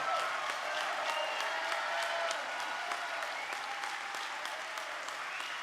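Steady applause from a convention audience at the 2017 SEANC gathering: dense clapping from many hands, continuous and even throughout, heard from some distance without a break.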